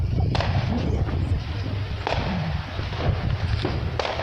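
New Year 2022 fireworks explode in a loud, continuous wash of rumbling booms, with a few sharper cracks standing out and faint voices mixed in.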